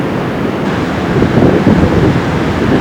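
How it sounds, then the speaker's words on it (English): Steady warm east wind gusting across a beach, roaring into the microphone with a rushing surf-like wash that swells louder in the second half. "Windy, but it's a very warm wind."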